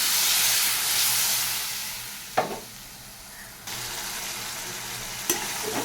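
Ground spices sautéing in a pan after half a cup of water is added for a Bengali sour dal, a steady close sizzle and hiss with a couple of brief stirring scrapes and a slight rise in bubbling partway through.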